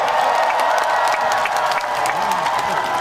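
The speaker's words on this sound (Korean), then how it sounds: "박수 한번 주세요" A crowd at an outdoor encore stage performance in Uiryeong applauds and cheers to congratulate a newly named promotional ambassador, a loud, continuous wash of clapping with scattered shouts.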